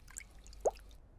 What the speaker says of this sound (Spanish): En la ducha, George comparte la bañera con el señor dinosaurio.